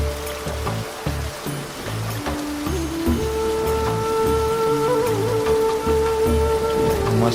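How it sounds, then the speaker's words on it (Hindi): Rain and hail pound steadily on surfaces in a village, with a broad dense patter running the whole time, close and fairly loud, and a few faint tonal sounds drifting in the background. "ये ज़ालाबारी शुरू हो गई है, ये देख सकते हैं आप। ये ज़ालाबारी के दाने गिर रहे हैं।"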